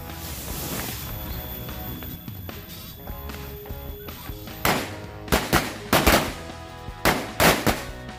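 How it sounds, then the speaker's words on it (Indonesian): Black Corsair match-type firecrackers go off in a rapid series of sharp, loud bangs, about ten cracks bunched in the second half after a stretch of quieter background sound. "selanjutnya ini mercon korek Corsair warna hitam"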